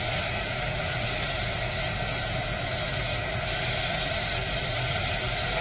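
Filet mignon sears in an oiled pan with a loud, steady hiss and sizzle, dense and unbroken from start to finish, with no talking over it.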